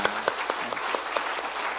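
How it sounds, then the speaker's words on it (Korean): A church congregation claps together at a Sunday worship service to bless a new member, a short burst of dense, steady applause filling the sanctuary with no voices over it. "우리 큰 박수로 축복하겠습니다"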